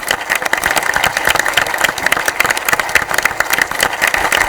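A large crowd applauds loudly and continuously at the finale of a Chhattisgarh current-affairs quiz show, dense rapid clapping filling the hall without pause.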